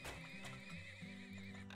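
Horses neigh and whinny in the management game Turmoil, bright stacked calls repeating over a steady game sound bed, with faint hoof clops beneath.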